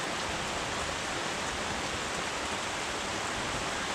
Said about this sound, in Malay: Hujan tadi macam nak berhenti. Yang ni lebat balik.